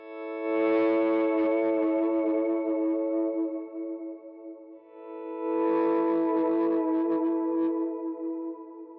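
Electric guitar playing a worship song through a chorus effect: two sustained, shimmering chords with a slight distorted edge, each ringing for several seconds and fading, played alone without talk.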